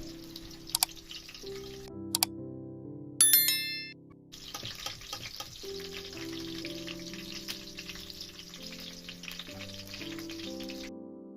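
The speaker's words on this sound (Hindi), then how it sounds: "प्याज निकालने के बाद उसी घी में मैंने चिकन ऐड कर दिया है" Chicken sizzles and fries in hot ghee in a pan, with a steady crackling hiss running throughout, a few sharp metallic clinks near the start, and a louder burst around three seconds in.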